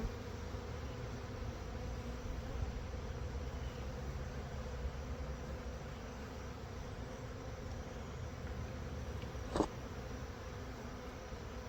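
Honey bees in a hive hum in a continuous, fairly faint, even drone during winter preparation, with one brief sharp click near the end and no talking.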